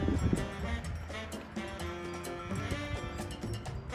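Sheep bleat repeatedly while feeding outdoors by a roadside between Albania and Kosovo, several calls overlapping through steady background noise with no clear talk.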